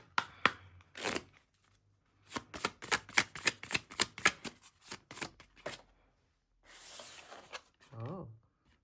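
Tarot cards are shuffled and drawn with rapid, close riffling flutters and crisp snaps in short bursts, then a brief rustle and a short spoken word at the end.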